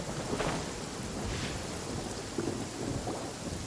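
Thunderstorm in the game Genshin Impact, with steady rain hiss and several rolling thunder cracks rising above it, continuous and fairly soft, no voices.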